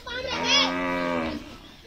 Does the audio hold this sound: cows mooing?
yes